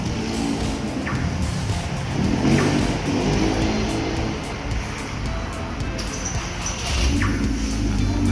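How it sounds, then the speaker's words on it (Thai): An Audi TT engine started by an LCD remote-start system, rumbling steadily and fairly loud throughout with slight swells in level, close by. "ต่อมานะครับผมเราจะสั่งการสตาร์ท ด้วยรีโมทหน้าจอ LCD นะครับผม สั่งสตาร์ทครับ"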